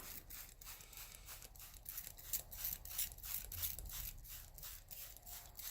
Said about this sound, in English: Now just give it all a little bit of a misting.